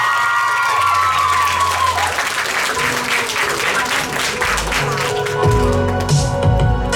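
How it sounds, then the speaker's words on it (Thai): An audience in Thailand gives loud, sustained applause with some cheering to welcome actor Kim Soo-hyun at an Asia tour event, while a host's voice and music continue underneath. "ขอสิบปรบมือดังๆต้อนรับคุณคิมซูยอน"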